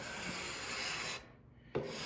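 A card scraper drawn across wood gives a close, continuous hissing scrape that lifts shavings, breaking off briefly before the next stroke begins.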